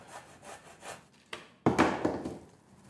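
Handsaw cutting through the timber of an old wooden bench being restored, a few rough rasping strokes, close and fairly quiet, ending in louder, heavier strokes.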